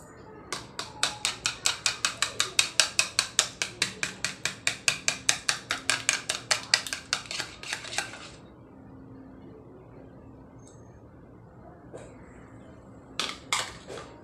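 Eggs with a little salt are beaten in a bowl, making a fast, regular run of close clicking taps for about eight seconds, then quiet, then a few final taps.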